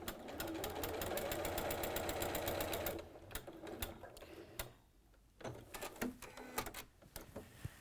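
Sewing machine stitching lines in fabric, a fast steady whirring run of stitches for about three seconds, then short stop-start bursts and quiet handling.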